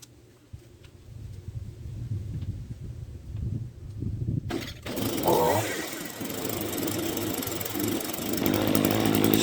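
An old, restored Echo string trimmer's small two-stroke engine fires up after a quiet start and keeps running with a loud, buzzing, steady drone that builds slightly toward the end.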